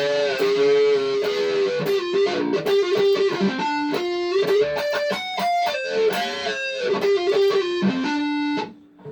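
Distorted electric guitar solo from a song, with fast runs, bends and sustained notes, loud and continuous, ending abruptly.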